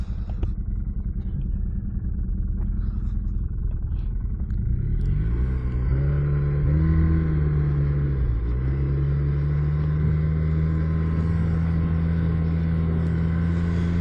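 A snowmobile engine droning steadily on a night ride, rumbling low at first and then rising into a louder, sustained whine as the sled picks up speed and holds it.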